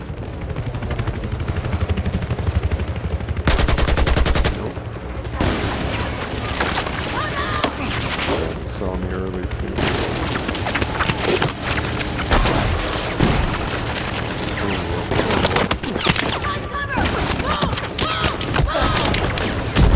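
Battlefield 4 combat brings dense, sustained gunfire bursts mixed with loud booming explosions, continuous and chaotic over the whole stretch, with a voice faintly present in the background at times.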